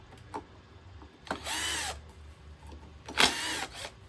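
A power drill backs screws out of the wheel of a PURE electric scooter in two short close bursts of whirring, each about half a second long, separated by quiet pauses.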